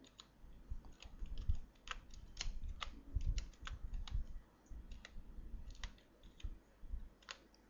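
Quick, uneven keystrokes clatter on a computer keyboard at close range, coming in bursts with short pauses and occasional sharper clicks, no voices.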